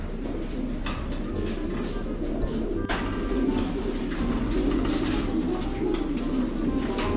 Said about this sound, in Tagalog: Ibon natin mga kalapatids